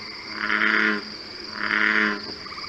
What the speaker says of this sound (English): The last one we have here is the bullfrog.